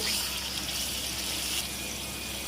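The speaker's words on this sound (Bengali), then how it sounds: "একটু পানি দিয়ে দিব," Water pours into a blender jar holding chopped onion and green chilies for a spice paste, a steady close gushing splash that runs continuously and softens slightly near the end.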